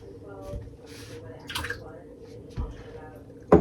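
Water drips and squishes from a halved, boiled dinosaur egg: a few soft, scattered drops and wet squelches in a quiet space, ending with one sharper, louder splat.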